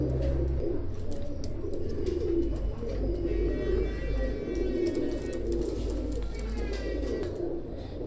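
Two male teddy pigeons coo steadily in a loft, with low, rolling, overlapping calls close by over a constant background hum, and faint chirps scattered above.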